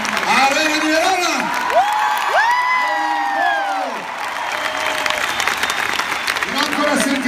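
Large arena crowd at an open-air concert in Verona applauding and cheering, dense broadband clapping throughout with voices shouting and whooping on top, singing or sustained vocal tones rising through the middle, loud and close.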